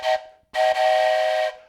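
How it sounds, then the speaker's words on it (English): A toy train whistle blows two loud, breathy blasts close by, a short toot followed by a longer sustained one, with no talking. "my trusty toy train whistle, when it's time to pause the video"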